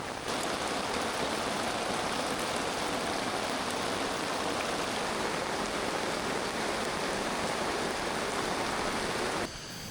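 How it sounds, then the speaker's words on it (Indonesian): Heavy rain pours steadily through a forest at a riverside campsite, a dense, continuous hiss of drops on leaves and surfaces that holds loud and even throughout before cutting off at the end. "Sekitar 2 jam hujan lebat,"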